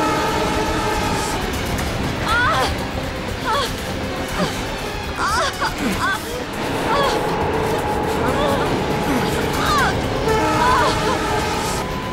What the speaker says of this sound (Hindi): ट्रेन स्पीड पकड़ चुकी है।